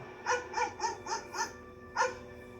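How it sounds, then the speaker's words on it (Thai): A dog barks in a Thai series trailer for Lovely Writer episode 7, set at a garden house: five quick barks in an even rhythm, a short pause, then one more, all fairly clear and close. "อ๋อเสียงหมาเห่าในบ้านสวนไง"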